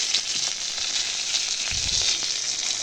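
Mustard seeds and curry leaves sizzle and crackle steadily in hot oil in a kadai for rasam tempering, close and continuous with no talk.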